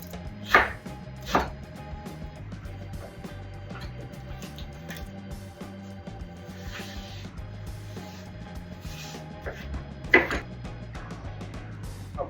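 Knife chopping a white onion in a home kitchen, a handful of sharp scattered cuts with pauses between them, close and distinct over a quiet background hum.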